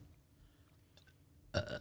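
A single short, close burp near the end, following a quiet stretch with faint background noise.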